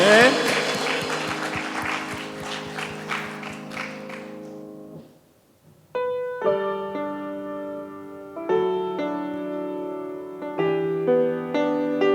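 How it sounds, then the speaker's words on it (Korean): Church congregation applauding during a Sunday worship service, clapping fairly loud with dense clatter for about five seconds, then fading out as sustained music with chords begins. "우리 하나님께 영광의 박수 올려드리겠습니다."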